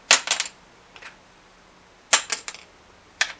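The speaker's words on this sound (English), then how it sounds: "This piece of bone saddle goes off the table almost every time" A bone guitar saddle drops onto a table and bounces in quick clicking bursts, twice, then one last light tap; close and crisp, no voices.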